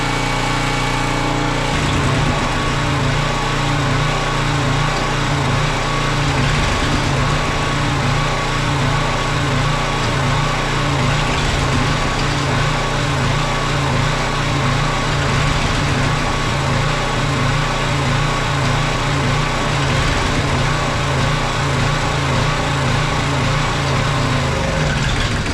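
Tractor engine idling steadily and evenly after being started, running on as its fuel is used up, loud, close and continuous, with no voices.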